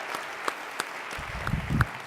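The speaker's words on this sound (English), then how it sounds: "Let's give a round of applause for what amazing. we've got going on, right?" Applause rises from a convention audience at a national meeting, starting as scattered claps and thickening into a fuller round toward the end.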